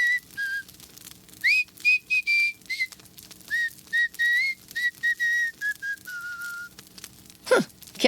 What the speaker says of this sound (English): All I remember is one of the henchmen whistling.